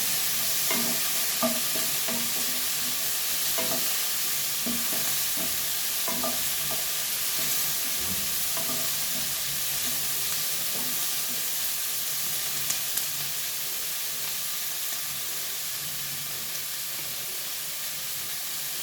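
Boiled mushrooms fry in a masala base, with a steady hissing sizzle and repeated soft scrapes of a spoon stirring through the pan, and no voices.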